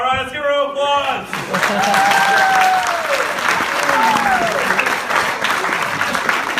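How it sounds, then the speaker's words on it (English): Audience at a live improv comedy show in Summerside, PEI bursts into sustained applause, steady and full throughout, with a host's voice calling out over the clapping. "let's give her an applause."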